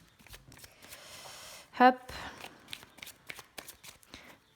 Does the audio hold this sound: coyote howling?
no